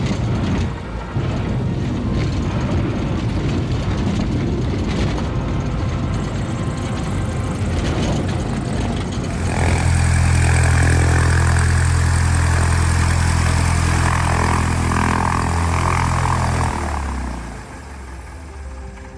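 A Cessna 172 propeller engine drones loud and continuous during a climb, its low hum growing fuller and stronger partway through before easing off near the end.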